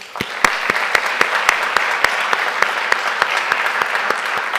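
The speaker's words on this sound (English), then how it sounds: "Let's give them a round of applause." Round of applause at a school district board meeting for high-achieving students; loud, close clapping with sharp individual claps standing out over the steady wash throughout.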